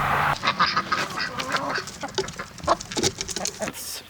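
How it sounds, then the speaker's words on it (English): Ducks, turkeys and chickens at their coop and pen on a farm, with dense overlapping quacks, chirps and scratching patter that stay close and fairly loud throughout, and no talking. "This is where I spend a lot of my time with the ducks, turkeys, and chickens, and yeah, that's their coop"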